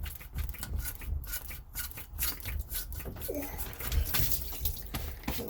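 Water from a disconnected hose on a 1992 Sea Ray Sundancer's Mercruiser 4.3L engine splashes and trickles out, with scattered rubbing and handling noises over an uneven, gushing wash.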